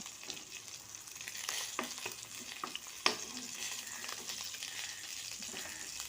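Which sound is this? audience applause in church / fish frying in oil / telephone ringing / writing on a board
fish frying in oil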